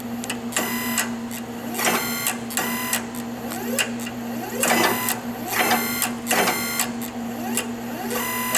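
The small motor and pump of a REXA electraulic actuator on a steam turbine control run in short repeated whirring bursts, each with a rising tonal whine, close and steady over a constant background hum.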